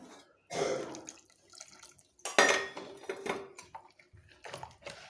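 Water splashes and drips into a bowl of dosa batter made with bottle gourd, in short bursts, with light clinks of a utensil against the container between pours.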